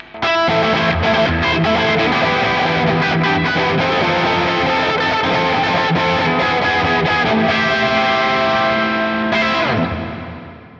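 A Fender Telecaster on its bridge pickup plays heavily distorted with a bright, biting edge, sustained chords and riffs loudly for several seconds before ringing out.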